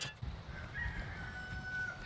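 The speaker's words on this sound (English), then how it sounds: "if you can hear the rooster." A rooster crows in one drawn-out, somewhat distant call that runs for over a second against steady outdoor background noise.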